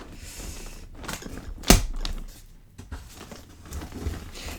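A package from an esoteric shop being opened by hand: close crinkling and tearing of wrapping, a sharp snap or rip near the middle, then lighter rustling and handling noises.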